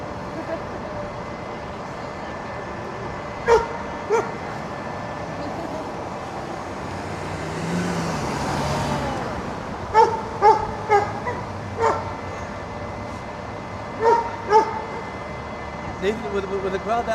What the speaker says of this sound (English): That's why the other dog's kind of going crazy.